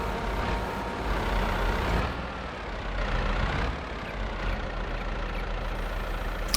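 A small tractor engine drones steadily in a farming simulation game, with a constant low hum and slight swells in the mix, no talk.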